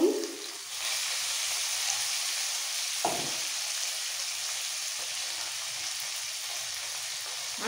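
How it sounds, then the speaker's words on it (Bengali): Bitter gourd slices frying in hot oil with a little salt and turmeric, a steady close sizzle running throughout with a few brief stirring clatters. "একটু কড়া করে লাল করে ভেজে নেব উচ্ছেগুলো।"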